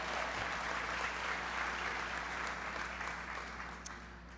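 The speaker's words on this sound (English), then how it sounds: "So give Congressman Watt a big round of applause" An audience at President Obama's economy event in Asheville, North Carolina applauds for Congressman Mel Watt, a dense wash of clapping heard at some distance, steady then slowly fading.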